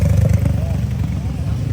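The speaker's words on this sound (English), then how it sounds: "Look at these motorcycles just coming down," Motorcycles rumble past in dense Bali traffic, their engines close and throbbing. Someone speaks over the steady traffic noise.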